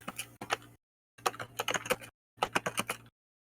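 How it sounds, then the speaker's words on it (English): Computer keyboard typing in three separate bursts of rapid, close keystrokes with brief silent gaps between them, no voices present. "keyboard noises"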